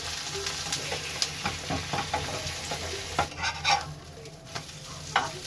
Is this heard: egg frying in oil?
yes